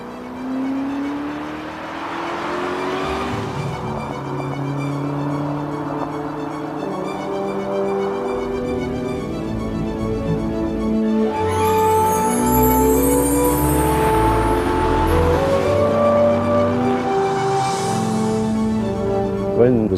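An Aston Martin Zagato sports car being driven, its engine note climbing and dropping through the revs and growing louder partway through, with voices talking over it.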